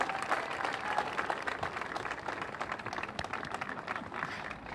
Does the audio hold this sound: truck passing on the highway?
no